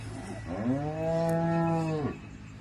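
A dairy cow offered for sale as a milker moos once, a long, steady, close low call lasting about a second and a half over faint background noise.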